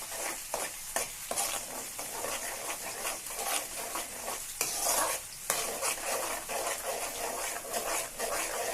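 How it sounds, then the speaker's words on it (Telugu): Chicken fries in plenty of oil with onions and tomatoes, a steady close sizzle broken by repeated scraping stirs of a spoon in the pan, with no talking. "ఇది కొంచెం వేగాక చికెన్ వేస్తాను"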